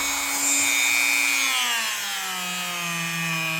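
A rusty knife blade is polished with jeweler's rouge on a power-driven buffing wheel, giving a close, steady whirring hum whose pitch glides downward as the motor slows, with no voices.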